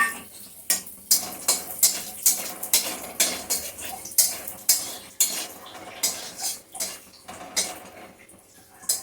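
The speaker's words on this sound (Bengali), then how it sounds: "এখন কড়াইয়ের মধ্যে যে চালটা আছে তার মধ্যে চিনেবাদামগুলি ভাজতে দিয়ে দিচ্ছি" Peanuts fry in a kadai wok with flattened rice (chire) while a metal spatula scrapes and stirs in a steady rhythm, about two scrapes a second, close and clear over a soft frying hiss, without talking.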